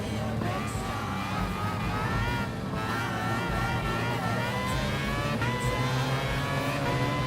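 Group C and LMP1 prototype race cars in Gran Turismo Sport: dense, continuous engine roar and whine from a pack of cars racing at once, loud and steady throughout with shifting revs and no speech.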